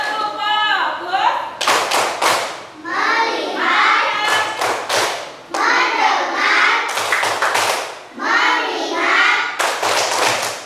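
Schoolchildren in a classroom chant a rhythmic 'tepuk fokus' focus clap together, loud bursts of group clapping and thumps alternating with their sung words, repeated in a steady pattern.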